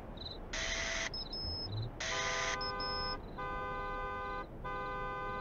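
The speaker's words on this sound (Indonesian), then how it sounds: "Alarm mobil." Car alarm in the Graveyard Shift horror video game, blaring in a repeating pattern of harsh buzzing blasts and steady electronic tones, loud and continuous with no talk over it.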